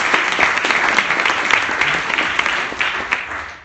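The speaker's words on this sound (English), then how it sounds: "So the biggest applause for the morning must go to Georg Kell" Audience at a UN Global Compact lecture applauding Georg Kell, loud, dense clapping with distinct individual claps standing out near the front, easing off slightly toward the end.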